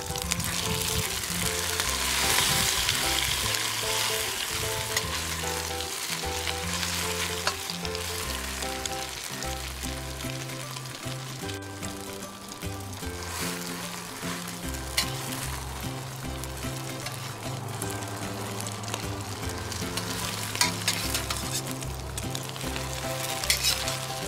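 Tofu fries in a hot pan with a steady, continuous sizzle, held close and fairly loud, with occasional stirring scrapes and tonal music layered underneath throughout.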